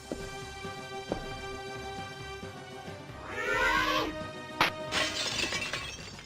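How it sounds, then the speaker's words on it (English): Small mirror glass smashes in the video game Alone in the Dark, two separate bright shattering crashes a second or so apart over a quiet ambient game background. "Did you hear that glass smashing?"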